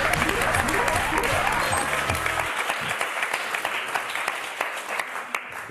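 Studio audience applauding on a French word game show, a dense burst of clapping that starts with a voice over it for the first couple of seconds, then carries on alone and tapers into scattered claps.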